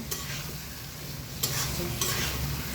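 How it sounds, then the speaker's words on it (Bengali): Fried eggplant pieces being gently stirred in a pan, with a soft scraping and shuffling over a steady low sizzle and two slightly louder stirring strokes partway through. "হালকাভাবে নাড়িয়ে নিতে হবে যাতে বেগুনগুলো"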